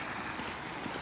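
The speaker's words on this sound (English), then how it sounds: "God, this fast moving water." Fast-moving floodwater rushes across a flooded road in a steady, broadband roar with faint gurgles, close and continuous throughout.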